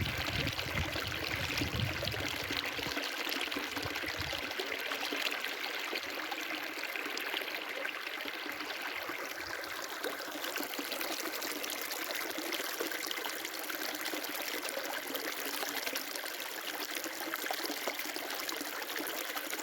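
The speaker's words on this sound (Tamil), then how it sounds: "பக்கத்துலேயே ஒரு ஓடை" A small stream runs beside a large banyan tree next to open fields, a continuous trickling, babbling flow heard alone. A low rumble in the first few seconds fades out.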